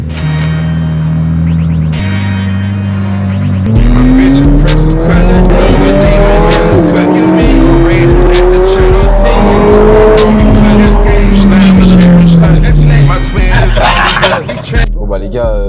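A McLaren 720S revs hard and accelerates, its engine note climbing loudly while tires squeal and screech continuously, very close and dominant throughout.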